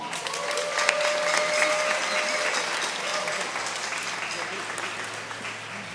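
Concert audience applause for an orchestra with a soprano and saxophone soloist, dense steady clapping from a large hall crowd at moderate level throughout.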